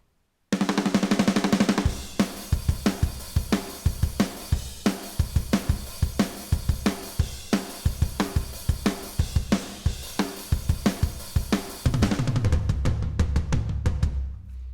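Programmed drum kit playing a steady groove with kicks, snares and hi-hats, hits varying slightly in loudness for a loose, human feel.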